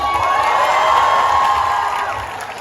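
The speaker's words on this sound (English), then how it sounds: "Please give everyone a big round of applause." A college night audience at a skit cheers and whoops loudly and continuously, with shouting voices blending into a bright roar that fades slightly at the end.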